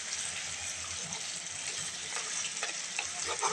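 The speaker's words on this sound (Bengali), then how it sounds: "যত ভালোভাবে আপনি এই মাংসগুলোকে কষিয়ে নেবেন তত ভালো বুটের ডাউলের টেস্ট হবে।" Beef sautéing in a pan for a chana dal curry gives a steady, close hiss of frying with a few faint scrapes of stirring.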